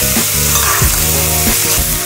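Chicken breasts frying in an oiled pan with a knob of butter, a loud, steady close-up sizzle with a few soft scraping stirs, no talking.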